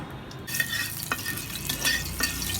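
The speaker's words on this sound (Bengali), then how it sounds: "চলো, পাঁচফোড়নটা আমি হালকা ভেজে নিব।" Panch phoron spices are lightly frying in a hot pot over a clay stove, a sudden sizzle breaking in after a quiet moment, with a few sharp stirring scrapes, near and unaccompanied by talk.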